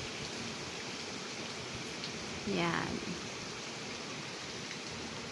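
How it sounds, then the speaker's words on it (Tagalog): Steady heavy typhoon rain in Oriental Mindoro hisses throughout, with a brief rushing gust partway through and a short spoken word. "Pabugso-bugso po yung ulan at yung hangin."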